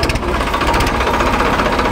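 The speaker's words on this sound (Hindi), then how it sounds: "अपनी जान बचा के दुम दबा के ट्रैक्टर फटाफट स्टार्ट कर लिया" A tractor engine runs steadily at close range after a hurried start, a continuous loud mechanical chugging with a knocking rattle that holds throughout, with no talk over it.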